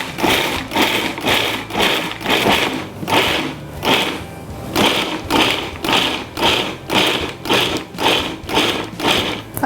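A food processor pulses lentils in short, evenly spaced bursts, roughly a dozen whirring chops with brief gaps between them, close and fairly loud with no talking.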